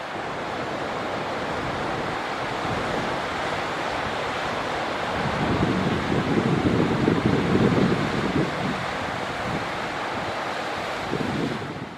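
Ocean surf rolls and crashes steadily at a surfing spot, a broad continuous wash with a louder surge midway, heard close with wind buffeting the microphone and no voices.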